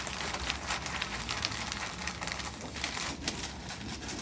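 Glass being wrapped in packing paper, a steady dense rustle and crinkle of paper that runs close and continuous with small crunchy bursts and no talking.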